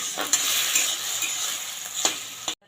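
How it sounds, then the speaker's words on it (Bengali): Chopped onion and capsicum fry in a pan with a continuous crackling sizzle, broken by a few sharp scrapes and clinks of a spatula against the pan before it cuts off. "হালকা করে সব ভেজে দিচ্ছি"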